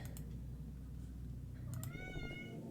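A cat meows once in the video game Growing My Grandpa, a clear rising-then-falling call near the end over a steady low background hum.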